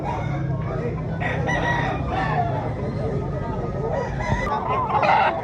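A rooster crows at a chicken expo in Consolacion, Cebu, its call rising over a busy, steady crowd murmur with people talking nearby throughout.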